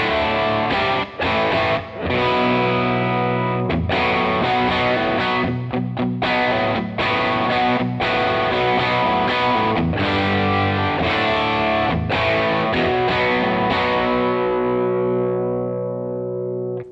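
Electric guitar through a Jam Pedals Double Dreamer overdrive pedal, loud and dense with steady gritty chords and accented strums, sustaining continuously and fading on the last ringing chord.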